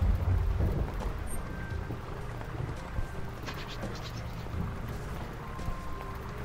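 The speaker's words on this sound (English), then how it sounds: "Is the storm still wreaking havoc?" Steady rain and low rumbling thunder from a video game roll on throughout, with a continuous wash of storm noise and occasional faint crackles.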